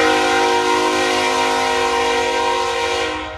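A loud, sustained train horn blares steadily with rich harmonic tones, fading slightly at the very end.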